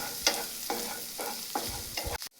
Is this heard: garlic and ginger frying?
yes